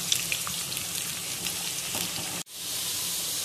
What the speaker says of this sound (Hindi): हम इसको इतना फ्राई करेंगे कि ये लाइट गोल्डन कलर की हो जाए